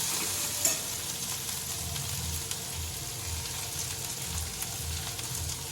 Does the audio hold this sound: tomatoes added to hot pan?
yes